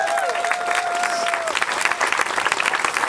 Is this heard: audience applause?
yes